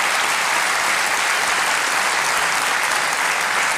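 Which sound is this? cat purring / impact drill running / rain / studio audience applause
studio audience applause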